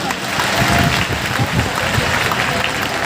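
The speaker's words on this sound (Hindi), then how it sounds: "हम सभी पुष्प मिलकर के ताली बजाकर स्वागत करते हैं" Audience clapping to welcome a speaker at Bageshwar Dham during a Hanuman Janmotsav gathering, a loud, steady wash of crowd applause that continues throughout.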